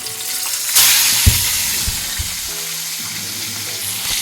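Chicken tenders frying in hot oil, a bright continuous sizzle that swells loudly near the start, with a few soft knocks of handling and no talking.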